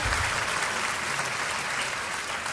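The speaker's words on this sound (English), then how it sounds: "Please applaud Her Excellency, Professor Nana Jane Opoku Ajiman." Steady applause from an audience at a university graduation ceremony, a dense wash of clapping that stays loud throughout without pause.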